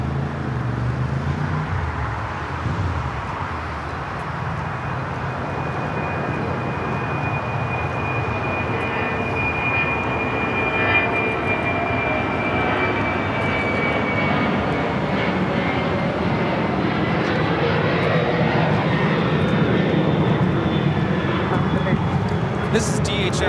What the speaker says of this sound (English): This is DHL, operated by ABX, flight 410, taking off to Cincinnati.